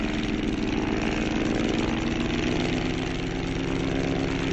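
An autogyro engine runs at full power before takeoff on a 1966 gyroplane, a steady loud droning roar with a propeller buzz and no pauses.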